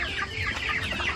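Chickens cluck continuously at close range in a busy, overlapping chorus of short fowl calls, steady and moderately loud throughout the brief moment, with no pause.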